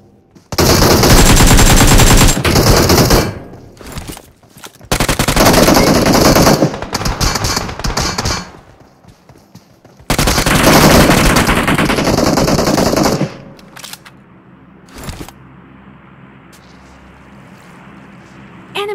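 Heavy bursts of automatic gunfire from a mobile battle shooting game on a OnePlus phone, loud and close, coming in long sustained volleys with brief pauses, then fading to scattered shots.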